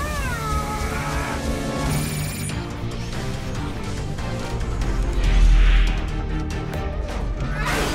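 An animated cat creature meows and caterwauls loudly in a cartoon episode, with drawn-out wavering cries over background music and effects, including a sharp crash-like burst partway through.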